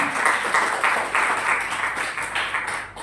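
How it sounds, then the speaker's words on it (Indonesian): A church congregation claps in applause during a sermon. The dense, fairly loud clapping surges in waves for about three seconds, with no speech on top. "Beri tepuk tangan dong."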